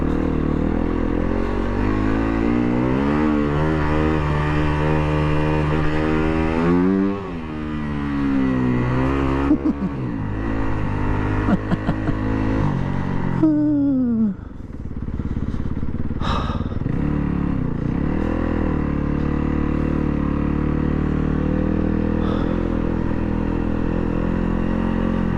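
A 2019 Yamaha WR250F dirt bike ridden off-road, its engine loud and close, revving up and down through gear changes with brief throttle drops, rattles and a clack near the middle, engine droning throughout.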